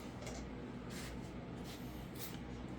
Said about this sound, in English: Light spray.